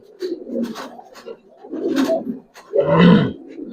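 Giribaz pigeons give several low coos and grunting calls nearby, the last one louder and harsher, spaced by short gaps.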